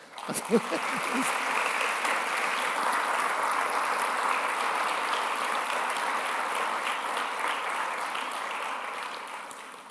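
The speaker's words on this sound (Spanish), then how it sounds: "Vamos a darle un fuerte aplauso al Señor." Sustained applause from a large church congregation fills the whole stretch, steady and full, with a faint tone at the very start.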